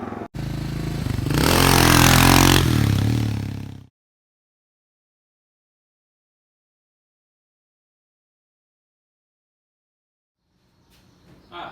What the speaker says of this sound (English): That's how to wheelie, how I recommend you learn how to wheelie a big bike like this.